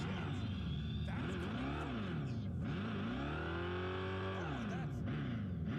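A car's new straight-six engine revving hard, deep and throaty, climbing and dropping in pitch through several rises and a long held high rev, loud and close, with no talking.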